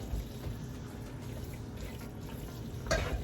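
Plant-based egg vegetable fried rice being stirred in a pan, soft scraping and light sizzle at low level, with a brief sharper clink near the end.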